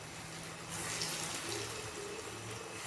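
Kunukku bonda batter fries in boiling oil, giving a continuous soft sizzle and bubbling that swells slightly midway, with no voices.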